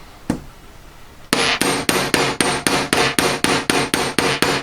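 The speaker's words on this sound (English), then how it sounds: "So I'm hammering over my join." A metal sheet is hammered over a join on a rounded block corner, one isolated knock followed after a pause by a fast, even series of loud ringing blows, about three per second, close and without talk.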